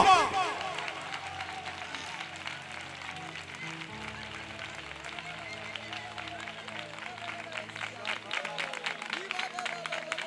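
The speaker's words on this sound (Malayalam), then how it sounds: "ജീവനുള്ളവന് കൈയടിച്ച് ദൈവത്തെ സ്തുതിക്ക്." Church congregation clapping hands in praise during a Malayalam sermon, a dense steady crowd applause with babble and music tones underneath, continuing throughout and swelling slightly toward the end.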